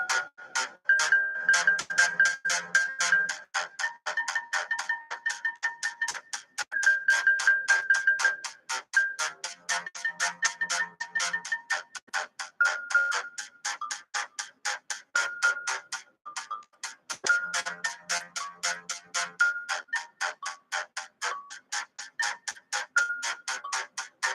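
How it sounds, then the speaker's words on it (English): A metronome ticks steadily and quickly for a long stretch, with occasional higher pitched accent beeps, heard alone without voices. "To keep in time, metronome."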